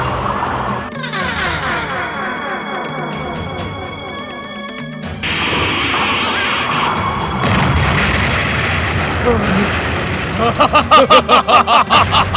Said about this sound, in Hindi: शनिदेव ने भी अपनी विध्वंसक शक्तियों से मधु कैटभ को विस्फोटक अस्त्र शस्त्र प्रदान करने प्रारंभ कर दिए